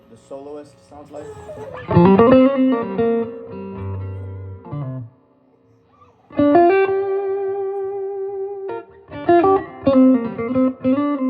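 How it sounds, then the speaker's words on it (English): An electric guitar played through a Bill Krinard Two Rock Dumble-style amp's clean channel with a Kingtone Soloist pedal plays several sustained phrases and held notes, with a short near-silent gap midway, loud and close with no voices. "this is what this clean with the Soloist sounds like"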